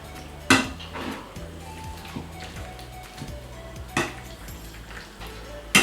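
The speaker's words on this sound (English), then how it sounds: "So now I just want to whisk it all together." Whisk clinking against a bowl while mixing a fish finger marinade, with three sharp metallic strikes standing out over a steady low scraping rhythm, close and fairly loud.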